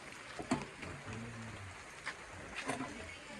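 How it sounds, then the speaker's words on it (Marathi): Rain falls softly and steadily in the background, a quiet wash with a few louder drops and knocks, while faint voices murmur nearby. "थांबतोय वाटतं पाऊस"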